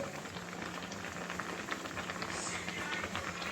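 Taro leaves boiling in a pot of water, a steady close bubbling and hissing simmer with faint popping that carries on evenly throughout.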